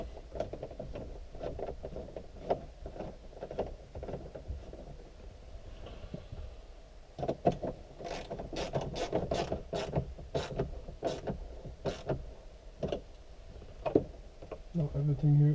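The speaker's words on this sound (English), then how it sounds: "So here is the last screw that needs to go in." A screw is driven into the dashboard of an Audi A6 4F/C6 with a run of sharp ratcheting clicks and plastic creaks, close by, under a faint background hum.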